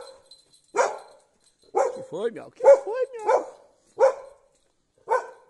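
Female dog in Alqueva, Évora, Portugal, giving several separate sharp barks spaced across the moment, close and clear, with a person speaking to her in between and a couple of whimpering yips mixed in.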